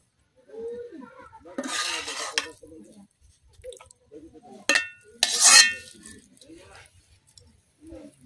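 Boiled sponge gourd being mixed with onion and chili in a pot, with scraping, clinking and squishy stirring in bursts separated by quiet gaps, close and fairly loud.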